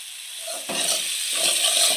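Spice paste for a Bengali doi katla fish curry sizzles steadily in hot oil over a low gas flame, a continuous close crackle that swells in two stirred bursts.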